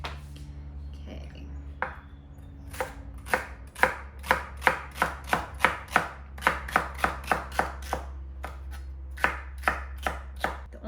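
Vegetables being chopped on a cutting board for homemade tomato soup, with a steady run of sharp, close knife strikes that speed into a quick even rhythm over a low background hum.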